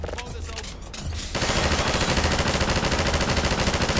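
Automated turrets in Half-Life 2 open up in a loud, sustained burst of rapid gunfire after a brief lull, the fast chattering rounds continuing steadily to the end.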